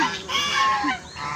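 Pet geese at a rural Filipino home honk and cackle in a rapid, nasal burst, loud and close, with overlapping calls across the short stretch.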